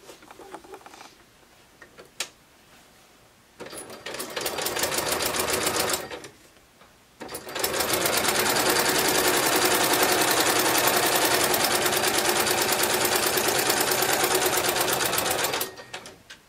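A sewing machine bastes leather and lining together at a quarter-inch seam, running in short bursts at first and then in one long steady stretch of rapid, close stitching.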